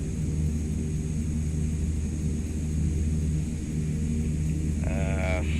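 Loud, continuous engine and propeller drone of a CL-415 water-bombing aircraft in Microsoft Flight Simulator 2024, flying over Queensland, Australia wildfires, a steady rumbling roar throughout with a faint tonal beeping near the end.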